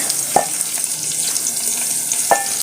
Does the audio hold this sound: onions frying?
yes